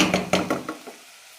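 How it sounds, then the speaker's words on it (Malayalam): Water poured into a hot pan of fried rice for veg pudina biryani gives a short run of clattering, splashing bursts that fade away within about a second. "ഇതിലേക്ക് വെള്ളം ഒഴിക്കാം."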